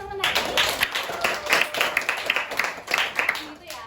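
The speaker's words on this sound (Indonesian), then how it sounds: "Ayo buat tepuk tangan buat Atul sama Naya." A group claps for Atul and Naya in what sounds like a classroom or lesson, with steady applause running through the whole stretch.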